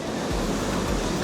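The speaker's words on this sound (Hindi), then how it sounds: "इतनी तेज़ हवा चल रही है पीछे से, ऐसे लग रहा है हम उड़ जाएंगे।" Strong wind blowing on the Amboli Ghat road in rain and cloud, a loud, continuous roaring rush buffeting the microphone, with low gusty thumps and no voices.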